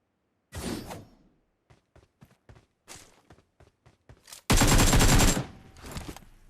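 Gunfire in a shooter video game: a short opening burst, then a string of separate single shots, a loud sustained automatic burst and a last shot, no talk.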